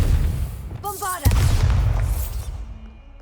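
The Bombarda blasting spell from Hogwarts Legacy goes off with one loud, deep boom and a crackling rumble that fades over a couple of seconds, following a brief tonal chime.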